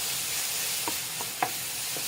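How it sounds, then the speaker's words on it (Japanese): Plum jam and miso sauce stirred in a pan with eggplant and pork, a steady low sizzle with a few soft spoon scrapes, quiet and close with no talk. "よくかき混ぜていきます"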